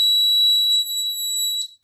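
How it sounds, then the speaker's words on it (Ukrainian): An electronic liquid level indicator for blind users sounds a continuous steady high-pitched beep as a glass fills with liquid, loud and alone, cutting off near the end. "Коли склянка повна або близька до переповнення, короткі звукові сигнали зміняться на суцільне пищання."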